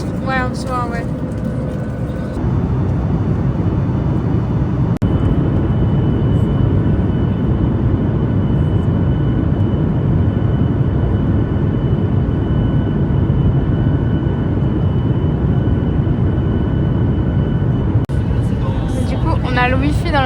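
Steady broadband roar of an airplane cabin during a long-haul flight, constant engine and air noise throughout, with brief voices at the start and end.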